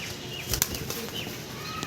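A female pigeon flaps its wings in a brief flurry of soft whooshing beats, close and fairly faint against a quiet background.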